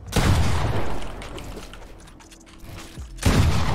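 Shotgun shots in the video game Fortnite, with loud booming blasts at the start and end and mechanical clatter and creaks between them.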